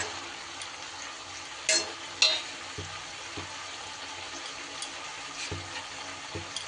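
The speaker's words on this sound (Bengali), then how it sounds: "এইবার আমি ভেজে রাখা ডিমটা দিয়ে দেব।" A fried egg goes into a pan of frying onion stalks: quiet, even crackling close by, with a couple of brief clinks early on.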